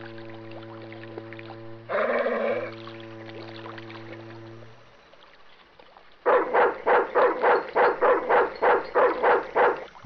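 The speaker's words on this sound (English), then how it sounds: "It was a mean-looking guard dog." A mean-looking guard dog in the Broken Sword 2 video game gives one short bark, then after a pause a fast run of about a dozen loud, rhythmic barks, with a low hum behind it.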